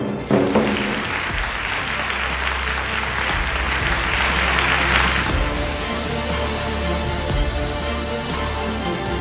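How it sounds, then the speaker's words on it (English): An audience at a physics olympiad ceremony claps in sustained, dense applause, loud and even, tapering slightly toward the end. "let us give them another round of applause"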